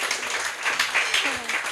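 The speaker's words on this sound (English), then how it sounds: "Please give a very warm applause to Tiffany" Audience clapping for a performer at a Hamburg event, an uneven patter of hands mixed with voices and cheers close by.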